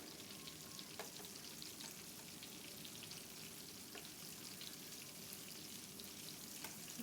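Shrimp frying in a pan gives a steady, close crackling sizzle, with occasional sharper pops breaking through the continuous hiss.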